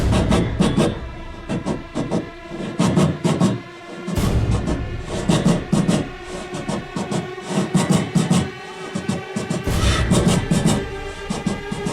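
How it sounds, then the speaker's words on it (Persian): A passenger train running along the rails, with steady rumbling and repeated clattering wheel clicks in an irregular rhythm, continuous, fairly loud and close, without speech. "معمولا تو قطار صداش اینجوریه."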